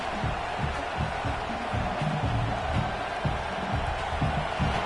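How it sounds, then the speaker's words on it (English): A football stadium crowd in Michigan roars loudly and continuously, a dense wash of cheering voices with no break across the whole stretch. "It's early, but this crowd is fired up. Listen to this noise here."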